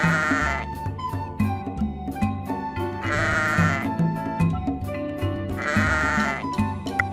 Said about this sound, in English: What does a sheep say? My sheep says, "Baa," all day long.